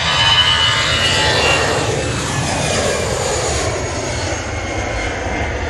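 An Emirates jet airliner at Manchester Airport roars steadily with a broad engine rush, its pitch sweeping downward as it passes close by, loud and continuous with no talking.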